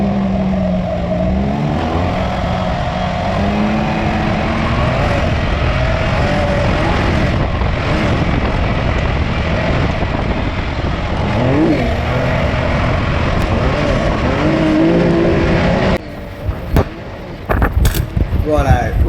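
A race buggy pulls away around a dirt track at a buggy weekend, its engine revving loudly and rising and falling in pitch as it accelerates, with a person talking over it near the start.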